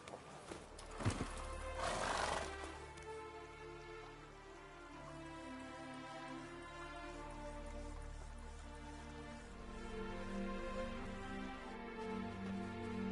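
Roach the horse races in The Witcher 3, with a whinny and hoofbeats early on, then steady galloping under rain and a tonal music bed, moderately loud throughout.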